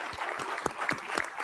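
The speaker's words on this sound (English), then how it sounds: "Everyone clap." Audience applause breaking out in a congressional hearing room, a short burst of scattered clapping with several sharper individual claps standing out over a steady wash.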